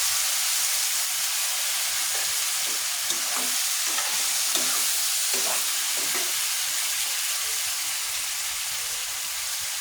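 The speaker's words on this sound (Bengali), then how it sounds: "আমি মাংসটা ভালোভাবে কষিয়ে নিচ্ছি।" Beef sizzling as it is stir-fried in a pan, a dense, steady hiss of frying that runs unbroken throughout with faint scraping stirs underneath, close and fairly loud with no voices.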